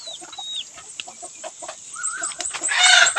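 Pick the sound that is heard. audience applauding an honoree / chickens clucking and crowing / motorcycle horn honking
chickens clucking and crowing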